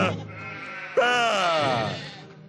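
A sheep character in the video game Skylanders: Swap Force lets out a long, wavering bleat that starts sharply, follows a brief voiced sound, and trails off gradually.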